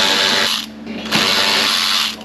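A power tool, likely a drill-type cutter, whirs steadily while trimming a part during a radiator install on a B6 Audi S4, briefly dipping before resuming loud and close.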